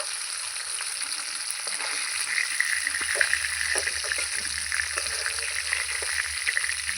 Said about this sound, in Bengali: যা মাছ আছে ওগুলো আমি ভেজে নেবো